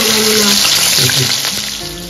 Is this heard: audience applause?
no